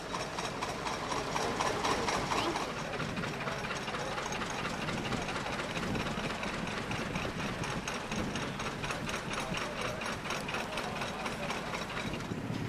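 Old tractor engines run steadily outdoors, a dense, continuous mechanical chatter and clatter at moderate distance with no pauses, and no voices over it.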